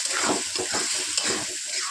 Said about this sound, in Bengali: দিয়ে এখন আমি মশলাটা একটু কষিয়ে নেব।